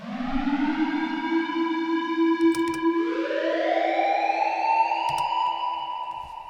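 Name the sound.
siren sound effect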